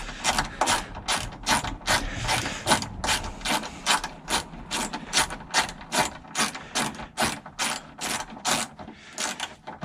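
A ratchet loosens the headlight assembly bolt on a Pontiac Grand Prix, giving a fast, loud series of close clicking pawl strokes in regular bursts throughout.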